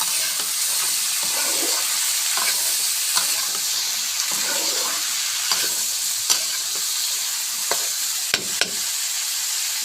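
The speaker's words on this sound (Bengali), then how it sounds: "নাড়াচাড়া করে সবজিগুলো ভাজা ভাজা করে নিব।" Vegetables including bottle gourd stirred and fried in a pan, a steady broadband sizzle with repeated scraping knocks from the stirring, close and continuous with no talk.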